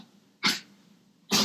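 Dog making sharp huffing, cough-like snorts during a podcast, two short bursts about a second apart against a quiet room.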